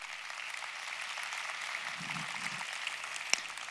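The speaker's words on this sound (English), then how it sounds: "Rounds of applause for all the Women's Forum team." Applause from the audience at the Global Women's Forum in Dubai, a steady, moderately faint hiss of clapping across a large room, with a brief low murmur partway through.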